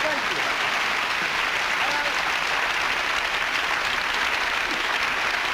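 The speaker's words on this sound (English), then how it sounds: "Please applaud." A crowd applauds steadily, a dense wash of clapping that holds at an even level throughout.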